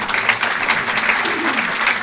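Applause for a speaker at an international law conference, a steady wash of many hands clapping together, fairly loud and close, with a faint voice briefly underneath.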